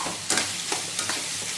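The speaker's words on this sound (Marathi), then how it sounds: "याला छान असं भाजूया आपण 1-2 मिनटं." A tempering of coconut, cucumber and tomato fries in a pan, with a steady sizzle and a few soft scraping stirs, close up and with no talk.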